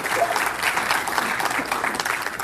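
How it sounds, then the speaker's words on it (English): A crowd claps steadily and densely at a magicians' convention stage contest, a continuous wash of hands throughout with no lull. "Please give another round of applause for Leonard Welch."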